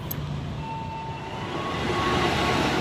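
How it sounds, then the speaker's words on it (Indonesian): A KRL commuter train approaches in Indonesia, its low rumble and rising hiss swelling steadily over a few seconds from a moderate distance. "Dan ini keretanya sudah datang nih teman-teman"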